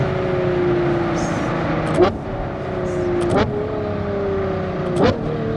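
A Novitec-tuned Ferrari Purosangue V12 idles in a loud steady drone nearby, broken by three sharp blips and crackles spread across the span.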